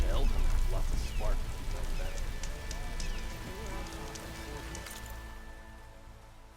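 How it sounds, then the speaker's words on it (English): Rain in Horizon Forbidden West patters steadily on the ground, loud at first and gradually fading toward silence, with voices talking over it. "Rain's finally stopping."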